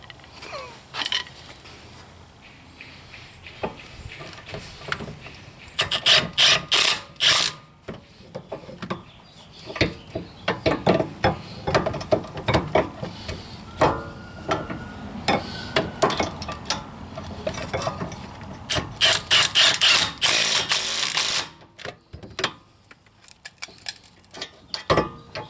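Tools tightening bolts on Honda Accord rear disc brakes, irregular metallic clicks, ratcheting and clinks in clusters, close and fairly quiet, with gaps and bursts of handling noise.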